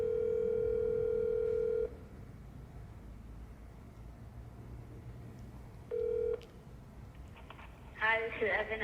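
Phone ringback tone on an outgoing call: a long steady ring, a pause with faint hiss, then a second short ring, fairly quiet, with a voice starting at the end.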